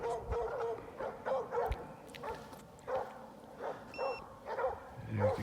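Hunting dogs chasing a bobcat in the Maine woods bark and yip repeatedly in rapid overlapping bursts, moderately distant outdoors, with occasional whines and rustling.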